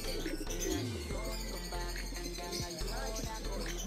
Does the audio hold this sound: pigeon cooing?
yes